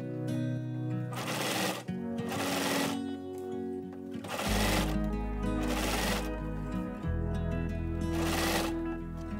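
A home sewing machine stitches a knit crew-sock cuff onto the sock body opening through three fabric layers, running in short, steady bursts with brief pauses between them, close and clear over a faint background hum.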